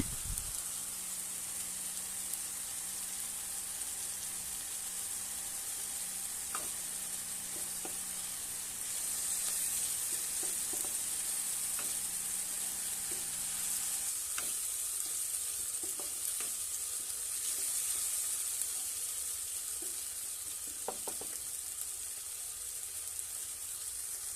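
Tomato paste frying in a pan for a small-fish curry, giving a continuous faint hiss of sizzling oil with scattered light clinks and scrapes from stirring.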